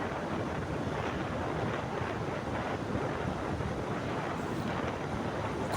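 Steady, loud wind buffeting the microphone while riding a motorcycle along an open city road beneath an elevated metro line, a constant broadband rush with no speech.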